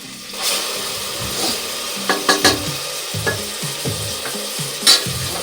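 A paste of mint, coriander, green chili and garlic sizzles in a hot pan for mushroom pulao, with steady frying hiss, scraping stirs and a few sharp spatters close by.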